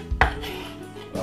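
A sharp knife slices the crusts off a cucumber sandwich, giving a quick close cut onto a board followed by a softer scrape and a second brief cut near the end.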